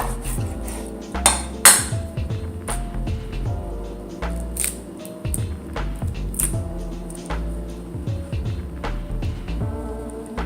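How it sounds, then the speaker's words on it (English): A knife chops through a white onion on a cutting board while it is trimmed and peeled, a run of close, irregular taps and knocks with a couple of sharper cracks, over a steady low background hum. "Then cut it in half to make it easier to peel the skin off."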